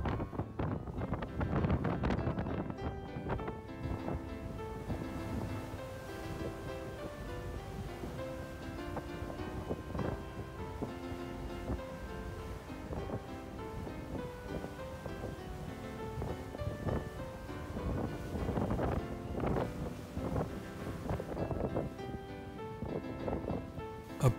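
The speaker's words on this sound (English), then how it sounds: "Approaching the Golden Gate Bridge, the wind and seas are getting stronger." Strong wind buffets the microphone aboard a vessel on San Francisco Bay approaching the Golden Gate Bridge, a steady rushing roar lasting throughout with faint water and engine noise beneath.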